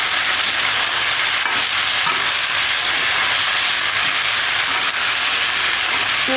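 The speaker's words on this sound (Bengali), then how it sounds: "ইঁচড়টা আলুটা ভালো করে কষিয়ে নেব।" Potato and green jackfruit sizzle steadily in hot spiced oil in a pan as they are stir-fried for a Bengali prawn dish, a loud, continuous frying hiss with occasional faint scraping.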